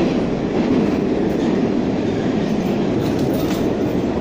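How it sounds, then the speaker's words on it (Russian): A passenger train rolls steadily along the rails, its loud continuous rumble carrying a faint rhythmic clickety-clack of wheels heard from inside a carriage. "Еду на этот поезд второй раз"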